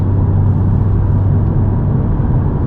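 Honda Civic Type R on the move, a loud, steady engine drone with road and tyre rumble filling the cabin, continuous and unbroken with no talking.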